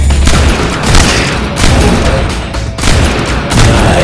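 Gunfire in the video game Evolution: Battle for Utopia, dense, loud booming bursts of shots and blasts rolling continuously with brief dips, no voices.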